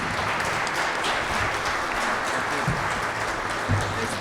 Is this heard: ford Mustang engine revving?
no